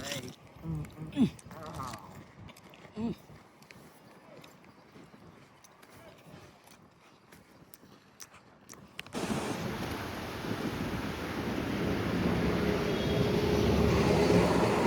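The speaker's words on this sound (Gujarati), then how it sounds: "ખતરનાક આમ તમે જુઓ, પવન, વરસાદ, ખતરનાક વાતાવરણ થઈ ગયું છે" A strong wind and rain storm in Bikaner starts with a quieter rustle and scattered voices, then swells suddenly into a loud, steady roar of wind and rain that keeps building.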